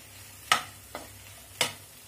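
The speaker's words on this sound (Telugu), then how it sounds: "ఇప్పుడు మళ్ళీ మన దగ్గర ఉన్న సోయాని యాడ్ చేసుకోవాలి. యాడ్ చేసుకొని చక్కగా 5 మినిట్స్ సిమ్లో పెట్టి నీట్గా ఫ్రై చేసుకోవాలి" Soya chunks frying on low heat in a pan, a low sizzle beneath a few sharp stirring scrapes spaced about half a second to a second apart, close by and with no speech.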